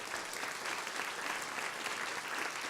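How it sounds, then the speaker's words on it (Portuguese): A church congregation applauding in praise during a worship service, a steady, even wash of many hands clapping from start to finish with no voices standing out. "Vamos aplaudir o Senhor"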